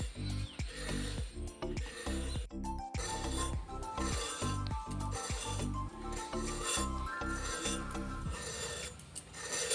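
Ridge gourd peel scraped off in steady rasping strokes, a rhythmic series of close, dry filing scrapes with a few clinks, no talking.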